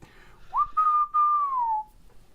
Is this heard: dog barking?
no